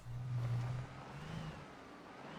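Steady engine drone of a sports utility vehicle driven in a video game, a low hum that swells briefly then settles into a quieter cruising rumble with no voices.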